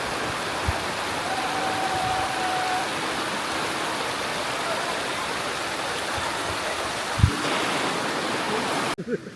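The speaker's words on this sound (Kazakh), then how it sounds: "Ал водопадқа да келдік." A waterfall roars in a constant wash of falling water, close and steady, with a few faint knocks and brief voices underneath before it cuts off.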